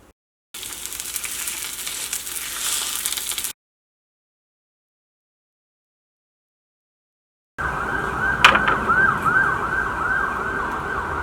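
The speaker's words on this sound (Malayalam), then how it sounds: "ഞാൻ സവോളയും തക്കാളിയും പതുക്കെ ഒന്ന് മൊരിച്ചിട്ടാണ് വയ്ക്കുന്നത്" Onions and tomatoes frying slowly in a pan, a steady close hiss and sizzle that fills the clip, broken by a long stretch of silence before resuming with a faint metallic tap.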